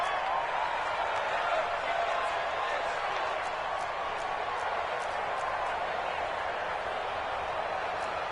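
A large football stadium crowd at a Jets game roars steadily ahead of a big third down, a dense, continuous wash of cheering and noise that holds without letup.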